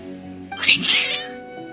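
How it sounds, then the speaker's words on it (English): Agitated cats in a video game let out a short, strained caterwauling meow, loud and close, with faint background music underneath. "Your cats seem pretty worked up."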